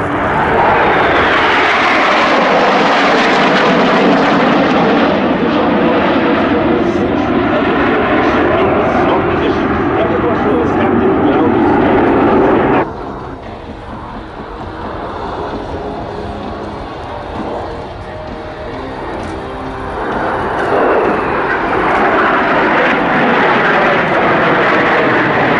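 Patrouille Suisse Hornet jets roaring overhead at the Royal International Air Tattoo air show, loud and sustained with sweeping pitch as they pass, briefly dipping before a second swelling pass; a commentator talks over it.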